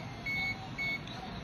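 A multimeter set to continuity buzzer mode, probing the battery points of a shorted Vivo Y93 phone, gives two short, clear beeps in quick succession over a low background hum.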